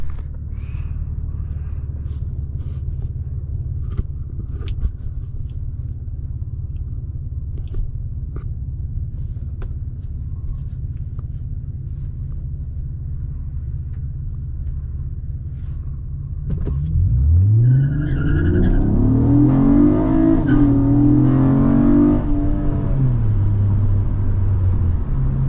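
A Honda Accord V6 car idles with a low, steady rumble at a light, then accelerates hard, its engine rising loudly through climbing revs and shifts, heard from inside the car.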